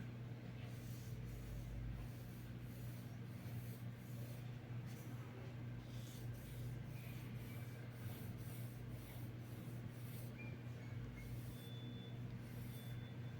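A pencil scratches across paper while the axis line and shoulder and hip guide lines of a torso are sketched, giving soft, continuous rubbing strokes over a steady low hum, with no talking.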